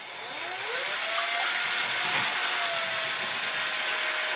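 An electric drill fitted as a mixer whirs steadily through cake batter of oil, egg, milk and vanilla, its motor pitch climbing as it spins up and then holding a constant high whine.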